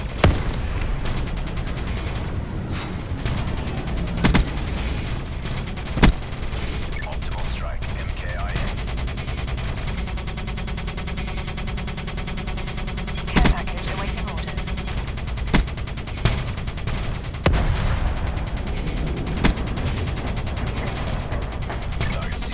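Gunfire in the video game Call of Duty: Black Ops III, with sharp shots and bursts scattered over a dense battle din, while in-game voices talk.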